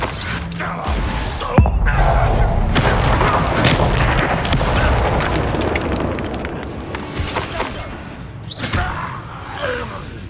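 A Bombarda spell explosion in Hogwarts Legacy gives a sharp boom near the start of the clip, then a long, loud rumbling roar of blast and debris with crashing game effects that gradually thins out.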